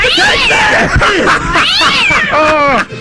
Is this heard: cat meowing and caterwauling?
yes